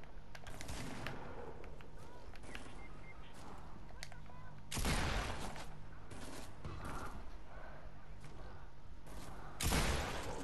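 Gunfire in a shooter video game comes as two sharp, loud bursts, one near the middle and one near the end, standing out above a quieter bed of constant game noise and faint scattered clicks.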